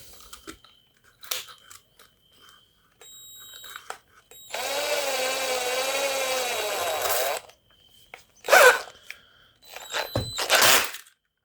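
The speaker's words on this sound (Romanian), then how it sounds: "Să punem asta în bormașină." A power drill whirs steadily for a few seconds amid scattered clicks, scrapes and handling noises nearby, during repair of a 150cc GY6 scooter engine.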